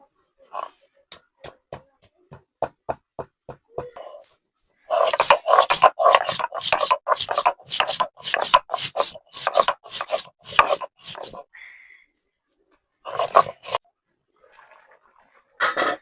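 Garam masala being ground on a stone, a rough rhythmic scraping and rubbing, first in sparse strokes then in a dense rapid run, close and alone.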